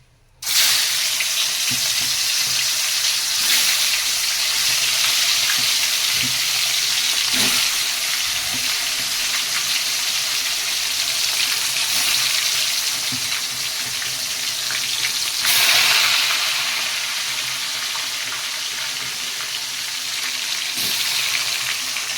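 Pieces of a large tilapia crackle and sizzle steadily as they fry in hot oil, a dense continuous frying hiss broken by a few sharper spits and a louder burst of spattering partway through.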